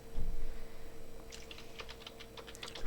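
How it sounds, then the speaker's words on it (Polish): Fingers tap out a name on a computer keyboard in short irregular clusters of light clicks, quiet and close, following a brief low thump at the start. "Wpisujemy nazwę w aplikacji."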